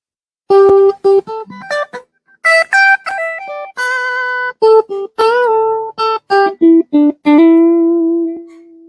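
A sequence of sustained electric guitar notes with a thick, driven tone through a Strich Grey Tube distortion pedal, played one after another with short gaps, ending on a long ringing note.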